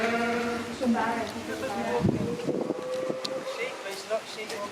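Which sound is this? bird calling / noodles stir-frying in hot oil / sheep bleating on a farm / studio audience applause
sheep bleating on a farm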